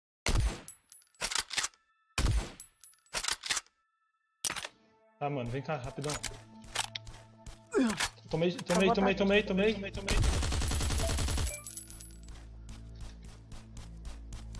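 Sharp, isolated gunshots ring out in the survival shooter Last Day Rules Survival, several loud single cracks spaced apart and then a denser burst, with players talking briefly among the shots.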